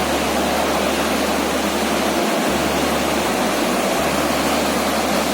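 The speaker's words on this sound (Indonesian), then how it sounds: "Airnya di persawahan itu mengalir di sungai-sungai kecil, akhirnya menumpuk melalui gorong-gorong ini sebenarnya." Floodwater from flash flooding roars steadily through a roadside culvert, a loud, dense, unbroken rush close to the microphone with no voices.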